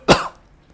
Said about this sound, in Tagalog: Okay, umubo ka.